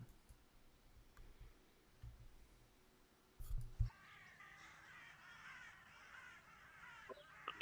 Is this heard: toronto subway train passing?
no